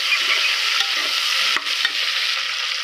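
Steady sizzling of onions and green chilies frying in a hot pan, with a couple of brief stirring scrapes, no voices.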